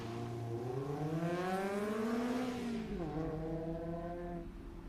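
A 1954 Corvette race car at a Daytona autocross event, its engine revving up through a gear, easing off, then climbing again as it drives past at moderate distance, with no voices.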